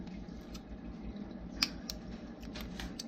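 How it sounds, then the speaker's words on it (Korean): Scissors trimming the cord ends of a knotted gemstone bracelet, a few faint, sharp snips spaced irregularly over a quiet background hiss, close to the listener. "그 다음에 끝에를 잘라줍니다 짧게"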